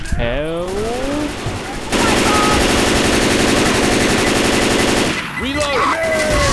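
Rapid automatic gunfire blasts loud and close in Left 4 Dead 2 during the Parish campaign, a sustained burst in the middle with shorter shots around it, mixed with game sounds and voices talking.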